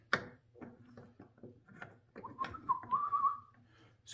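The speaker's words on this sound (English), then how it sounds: "Excuse my whistling." A person whistles a short wavering tune during a Honda CB750 transmission gearset teardown, with light clinks of parts being handled beneath it.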